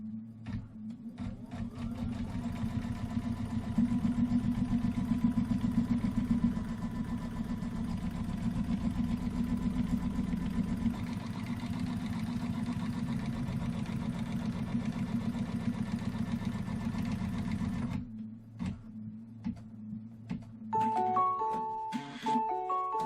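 A sewing machine stitches quilt fabric in a long, steady, close mechanical hum that stops near the end, followed by a few short clicks and soft electronic beeps.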